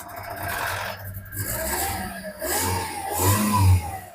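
A 2009 Toyota Hiace GL van engine revs up and down in several surges, loud and close, with a rasping mechanical edge.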